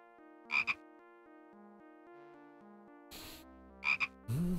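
In the video game Simon the Sorcerer, a frog gives two sharp double croaks a few seconds apart over quiet background music, with brief noisy bursts of other game sounds near the end.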